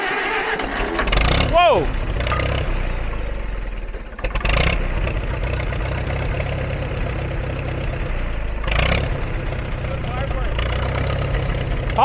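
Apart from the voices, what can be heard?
Farmall M tractor engine starting and idling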